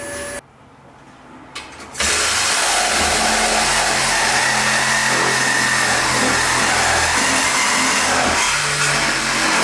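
A BMW E92 M3 revs hard through a thick stainless steel Active Auto Works exhaust, loud and close, with a brief quiet start before a sustained roaring drone holds steady to the end.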